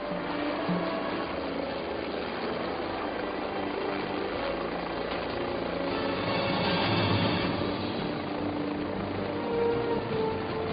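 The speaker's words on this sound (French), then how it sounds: "l'acheminement de 12 mètres cubes de béton par hélicoptère" Steady helicopter rotor and engine roar, continuous and fairly loud, swelling slightly midway with no voices, from a helicopter ferrying concrete to a high-altitude construction site.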